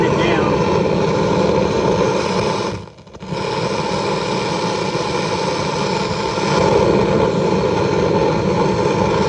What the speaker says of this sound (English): Got a pretty nice flame going there. Looks like a jet engine